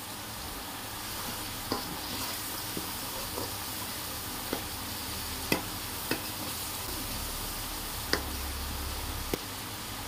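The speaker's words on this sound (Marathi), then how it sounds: "लसूण टाकल्यानंतर आपण त्याच्यात कढईमध्ये हलवत राहायला पाहिजे" Garlic frying in oil in a kadai, a steady even sizzle throughout, with occasional soft clicks and scrapes of a spoon stirring at irregular intervals.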